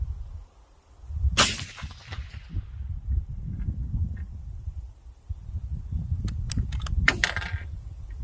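Metal rifle cartridges are fed by hand into a Haenel Jaeger NXT straight-pull rifle: sharp metallic clicks and clinks, one bright clack early on and a cluster of quick clicks later, over a low handling rumble.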